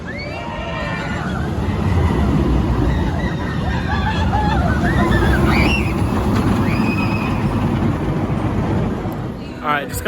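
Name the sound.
Steamin' Demon aero looper corkscrew roller coaster ride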